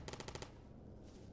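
A rapid burst of about five automatic gunshots in Stalker GAMMA, faint and distant, followed by a quieter lone shot amid ambient background noise.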